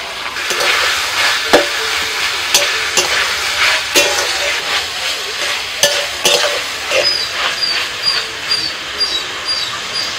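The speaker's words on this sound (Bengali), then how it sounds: "সবজিগুলো দেওয়ার পরেতে 2 থেকে 3 মিনিট ভেজে নিয়েছি।" Chopped onion with green and red capsicum frying alongside chicken in a pan sizzles continuously, broken by sharp metallic clinks and scrapes of stirring at irregular intervals.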